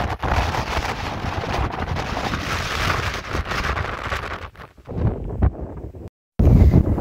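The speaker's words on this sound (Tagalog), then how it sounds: "Lakas ng hangin." Strong wind on a hike up Mount Johnston (Yuk Kwai Shan), Hong Kong, buffets the microphone in heavy rumbling gusts, dropping out briefly before roaring back loudly.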